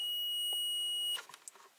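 A multimeter gives a continuity test beep across a refrigerator fuse in an LG No Frost fridge: one steady, loud electronic tone held for just over a second, then cut off, leaving a few faint clicks and rustles.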